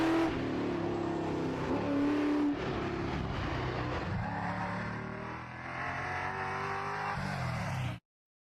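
A muscle car at a hillclimb roars up the hill past the NASCAR start-finish under full power, the engine loud and close, its pitch climbing through gear changes and holding a steady, harsh drone until it cuts off.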